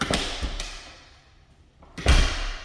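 A thick insulated door in a new-build home's bonus room moving and closing, with a couple of light knocks early on and a heavier thud near the end, close by and fairly quiet.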